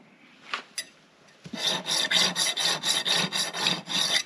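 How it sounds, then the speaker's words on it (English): A hand file rasping burrs off nuts during assembly of a 1939 Caterpillar D4 pony motor, a few isolated scrapes and then a fast, regular series of about ten close strokes. "Cleaner's cleaning up every one of these nuts with a file, just in case they had some little burrs on them."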